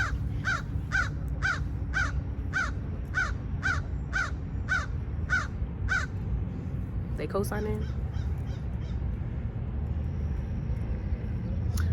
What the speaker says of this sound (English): we got a crow above us